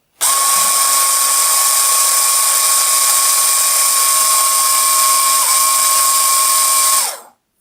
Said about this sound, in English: basically make it run for about 30 seconds for the grease to spread out evenly